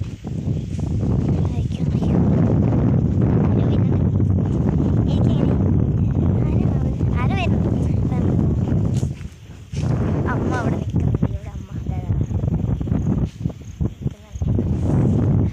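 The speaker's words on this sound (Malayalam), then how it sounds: "ഭയങ്കര കാറ്റ്" Strong wind buffets the microphone with a constant low roar throughout, while a person talks over it, the gusts briefly dropping before returning.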